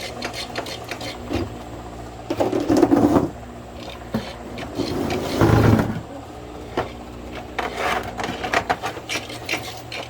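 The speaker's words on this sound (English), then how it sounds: "Hit my pedal a little bit so this chain runs through." Trotline chain runs through a pedal-driven hauler on a crabbing boat, making uneven mechanical rattles and clatters in repeated close bursts, some louder than others, over a low background hum.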